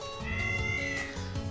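A cat meows in the game Touhou 11: Subterranean Animism, a single drawn-out wavering yowl that rises and falls, close and clear, with nobody talking.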